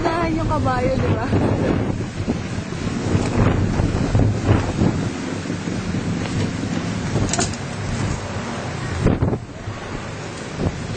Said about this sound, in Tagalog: Ang hangin sa labas.